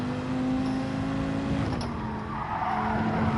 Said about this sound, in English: I can hear skidding behind me.